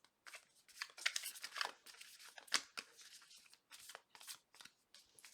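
Tarot cards being shuffled by hand, a quick run of papery riffles and flutters in uneven bursts, close and fairly quiet, with no talk.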